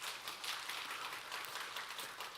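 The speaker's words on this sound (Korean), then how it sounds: "우리 박수 한번 쳐볼까요?" A church congregation clapping together in a dense, steady patter of many hands, faint and distant throughout.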